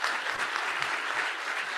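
Dense, steady applause from a conference audience at the Global Human Capital Summit 2022, honoring Coordinator Minister Luhut, filling the whole moment with an even wash of many hands clapping at once.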